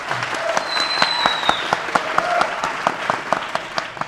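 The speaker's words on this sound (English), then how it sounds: "The applause was nice, too." An audience applauds with steady, dense clapping and a few crisp claps cutting through. A faint whistling tone sounds early on, and the applause holds at a moderate, even level.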